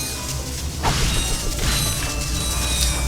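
Mechanical clinks and metallic pickup chimes as bolts are collected in the Ratchet & Clank video game, layered over game music with a couple of brief whooshing bursts.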